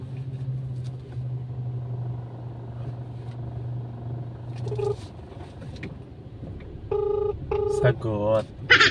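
A phone rings back during a call to a customer, with repeated ringback tones near the end, after a low car engine hum inside a transport vehicle.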